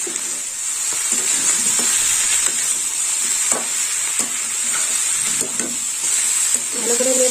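Vegetarian banana flower curry being stirred in a hot pan after a spoonful of sweetener is added: a close, steady sizzle with repeated irregular scrapes and shuffles of the spoon.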